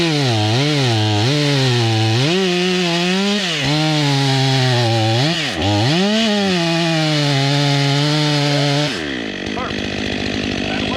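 A Stihl MS 500i wrap-handle chainsaw cuts into a huge white oak, its loud engine revving and bogging through the wood for about nine seconds before dropping to a rougher idle.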